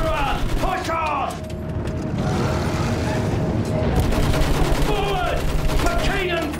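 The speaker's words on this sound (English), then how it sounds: "Use that machine gun! Mow them down!" Machine gun fire in the World War I trench warfare of Battlefield 1: a loud, continuous clatter of automatic fire over rumbling battle noise, with shouting voices at the start and end.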